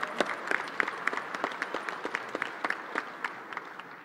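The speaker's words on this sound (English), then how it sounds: "Please, round of applause," Applause from a congress audience, with a steady patter of many hands clapping throughout, moderately loud in a large hall, fading slightly toward the end.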